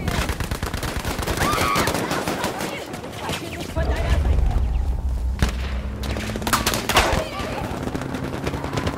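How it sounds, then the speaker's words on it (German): Gunfire and explosions crackle through a Battlefield 5 firefight, dense bursts of shots with booming blasts, including a low rumbling detonation mid-clip that fits a thrown grenade, with faint voices in the mix. "Ich werfe eine Granate!"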